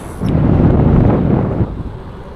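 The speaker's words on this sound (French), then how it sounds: "Là j'ai l'impression qu'il y a un peu de vent." Wind rushes in a broad, loud gust across the microphone of a rider on an Ausom L2 Dual Motor electric scooter, rising sharply, holding for about a second and a half, then easing to a softer rumble.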